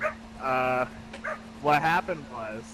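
A pet dog barks and yips in short bursts, close and fairly loud, mixed with someone talking over a steady background hum.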